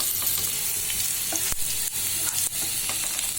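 Cumin seeds fry in a pan with a constant hissing sizzle close up, while a spoon stirs with a few sharp scrapes and knocks against the pan, and nobody speaks.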